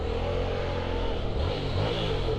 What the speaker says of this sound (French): le bruit du moteur là n'est pas ouf, c'est le pot d'origine